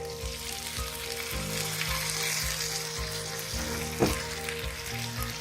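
Tindora and potato sabzi cooks in a pan, giving an even, close sizzle with a soft clink and a few light stirring scrapes now and then, and no talking.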